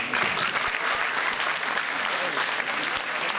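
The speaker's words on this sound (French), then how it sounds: "On l'applaudit." Audience applause at a 2014 amateur singing contest in Bain-de-Bretagne, a dense, steady wash of clapping from a crowd, close and loud throughout, with a voice faintly over it.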